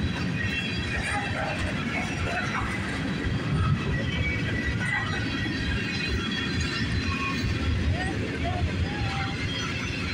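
A powerful freight train with distributed power units rolls past in Troy, Ohio, its steady rumble and wheel noise filling the whole stretch at close range with faint metallic squeals.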